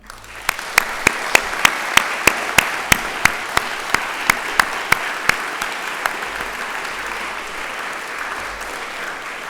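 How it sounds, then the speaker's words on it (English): Audience applause for a panel of experts at a science and mental health event, steady clapping from a crowd sustained throughout, with several loud individual claps standing out near the front. "Please join me in giving a round of applause to our panellists, Verinda, Sven, Judy and Mark."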